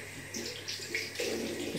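Warm water runs from a tap in a steady, soft splashing stream, with gentle fluctuations and brighter splashes as it hits the basin, fairly quiet and close, with no voices.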